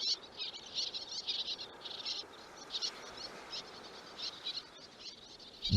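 Little terns call at the Ria Formosa lagoon, a string of high, sharp chirps in quick bursts, fairly faint over a soft outdoor hiss.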